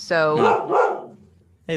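A pet dog named Lita barks in a quick run of close, loud yips, then pauses before one more sharp bark, with a person speaking briefly nearby.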